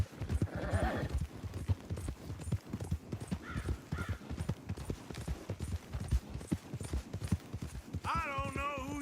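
Horses gallop in a race in the Red Dead Redemption 2 game, hooves clip-clopping in a steady rhythm with a whinny near the end, close and loud, while voices talk over the riding.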